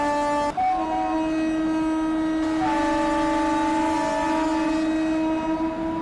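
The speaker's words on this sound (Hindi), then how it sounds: "हमें एक ट्रेन शताब्दी एक्सप्रेस क्रॉस की है WAP7 लोको" A Shatabdi Express hauled by a WAP7 electric locomotive in an Indian train simulator game sounds a loud, sustained multi-tone horn that continues steadily throughout, with the pitch briefly shifting and no talk.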